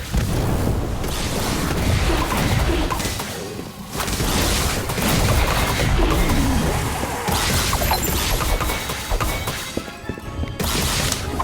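The Incendio fire spell is cast in a Harry Potter video game: a loud, continuous roaring blast, dense with crashing and booming bursts, fills the whole stretch without a break.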